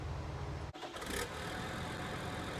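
A tractor engine in Farming Simulator 19 runs at a steady mid-pitched idle, with a brief dip and shift in tone partway through, then a constant hum.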